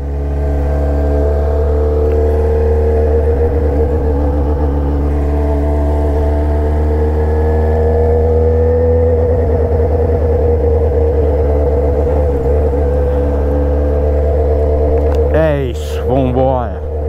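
Yamaha XJ6 motorcycle fitted with a handmade 2.5-inch Atalla exhaust idling loudly with a deep steady drone, rising slightly in revs, ending in a sharp blip near the close.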